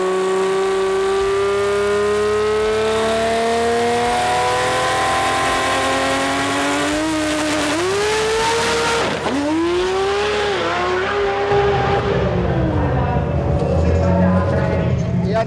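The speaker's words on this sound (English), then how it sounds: "big ass burnout" Drag car doing a big burnout at a drag racing event, a loud sustained revving engine with rising and falling pitch and tyre squeal, close and continuous throughout.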